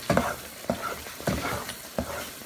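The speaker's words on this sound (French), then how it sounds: "Ensuite, je vais ajouter le beurre clarifié petit à petit." Clarified butter is added little by little to a hot pan and stirred, making a close sizzling hiss with rhythmic scraping strokes about every half second.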